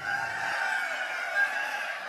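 An improved native chicken breed at a poultry research flock, with a rooster giving one sustained, fairly loud crow over a steady background and no speech.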